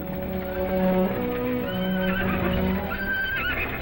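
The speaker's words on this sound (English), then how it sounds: "Look at the horses." Horses whinny and neigh repeatedly in a 1941 western film serial, high drawn-out calls rising over a steady clatter of hooves, with music-like tones underneath.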